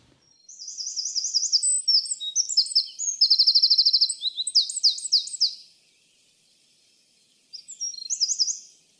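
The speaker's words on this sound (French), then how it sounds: "Le troglodyte, c'est le petit oiseau qu'on voit dans les jardins chez nous" A wren sings in a forest, delivering rapid high-pitched trills and warbling phrases for several seconds, pausing briefly, then resuming with another short burst; the song is clear and fairly close.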